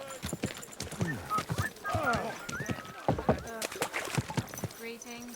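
A horse in the medieval video game Kingdom Come: Deliverance 2 shuffles with uneven hoof clops and lets out whinnying snorts, mixed with spoken dialogue close by.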